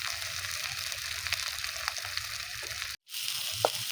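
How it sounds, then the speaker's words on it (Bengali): Masala paste with turmeric powder frying in oil for a cauliflower fritter curry, a steady close sizzle with faint crackles and one brief pause before it resumes, no talking. "এই যে বন্ধুরা দেখুন মশলাটা ভালো করে কষিয়ে নিয়েছি"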